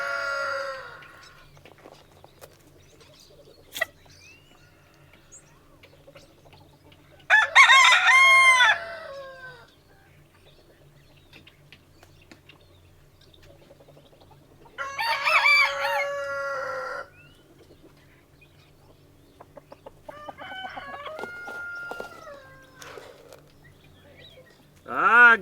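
Chickens on a farm during daily winter chores, with a rooster crowing loudly in three separate bursts spaced several seconds apart, and quieter clucking and rustling filling the gaps between them.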